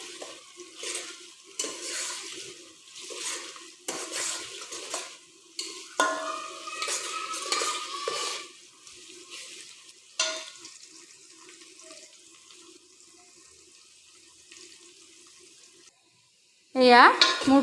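Onions fry in oil in a pan for shahi pulao, a close sizzle with stirring and scraping that fades toward a quieter simmer, then cuts off before a brief loud noise at the end.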